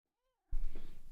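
A short, rising-and-falling cat meow, fairly soft, followed at once by a burst of loud, rough rustling noise.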